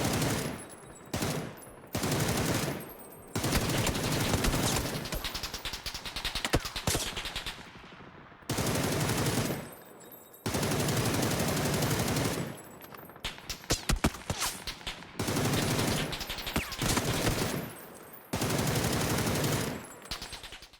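Long bursts of automatic gunfire from a PUBG shooting-range session hammer away one after another, loud and near, broken by brief pauses between magazines, with some choppier, stuttering stretches of rapid fire.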